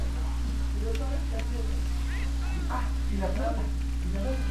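Steady rain hisses in the GTA Vice City game, a constant even wash under a low electrical hum while someone talks intermittently over it.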